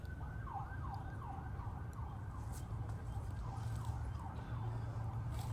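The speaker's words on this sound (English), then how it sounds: "you're going to hear a lot of cityscape sounds like sirens and traffic" A siren wails in a steady up-and-down pattern across a disc golf course in the city, moderately distant and continuous, over a constant bed of traffic rumble.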